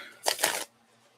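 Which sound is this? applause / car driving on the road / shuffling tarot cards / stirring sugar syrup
shuffling tarot cards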